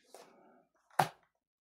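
A dog gives a soft low whimpering growl followed by a single short, sharp bark, faint and somewhat distant in a quiet space.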